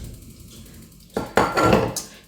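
A metal frying pan clanks and scrapes against something nearby, a couple of knocks followed by a short rattle, with no talking.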